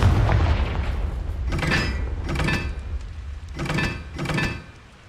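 Spells cast in the Hogwarts Legacy video game: four separate whooshing bursts with booming impacts, evenly spaced, loud and up close, with no talking.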